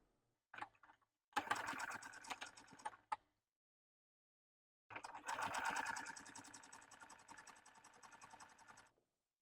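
A sewing machine stitches through bulky layers of sweater knit in two close, quick runs of rapid mechanical chatter separated by a pause, with a short burst before them.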